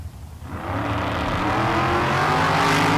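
Corvettes from 1961 and 1963, including a '63 split-window, roar down the strip at a bracket drag race. The engines rise in a loud, steady, close-up howl.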